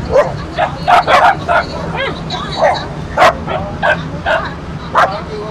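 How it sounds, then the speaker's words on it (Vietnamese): A rescued dog barks and whimpers in a series of short yelps and whines at an irregular rhythm, close and loud over a low background rumble. "Đây là một bác con chó nè các bạn."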